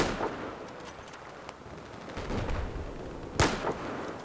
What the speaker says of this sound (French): Oh, on tire dessus, sniper.